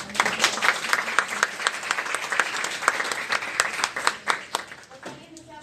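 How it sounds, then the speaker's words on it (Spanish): An audience gives warm applause to the panelists at a discussion on women's participation in mining. Many hands clap in a sustained, crackling burst at moderate distance, with crisp individual claps standing out, then it tapers off at the end. "una ronda de cálidos aplausos para nuestros compañeros"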